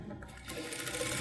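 Sewing machine stitching a cross patti piece onto a lined blouse, a short close run of fast, even needle clatter that starts after a brief pause and continues steadily.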